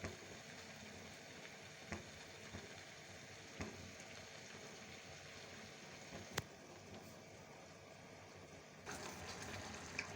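Chicken achar gosht roasts in a pan with a low, steady sizzle and occasional faint stirring knocks, quiet and continuous with a slightly busier stretch near the end.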